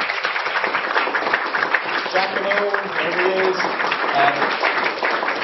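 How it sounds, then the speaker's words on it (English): An audience at a workshop closing session claps in steady, sustained applause throughout, while a voice speaks over it. "give them a round of applause"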